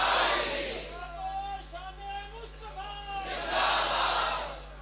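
A religious gathering's audience shouts a slogan together, a loud unison crowd roar that opens the moment, dips briefly while a voice speaks in the middle, then swells again toward the end.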